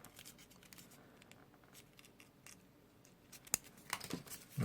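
Scissors snipping through folded paper while building a paper robot frame, a quiet faint rustle followed by a few crisp cuts toward the end.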